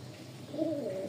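A pigeon gives a single low, soft coo partway through, fairly close, over quiet background hum, with no talking.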